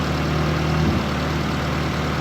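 A Ford Festiva engine idles steadily with a low, even hum and a slight wobble in pitch, heard up close with no talking.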